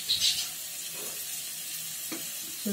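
Grated ginger sizzles and fries in a hot pan with a steady crackle, joined by brief stirring scrapes and a few soft clunks near the end, with no talking.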